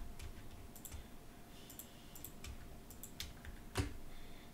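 Typing on a modded computer keyboard, a quiet, rapid series of crisp key clicks in irregular bursts, close and dry, with one slightly louder keystroke near the end and no talking.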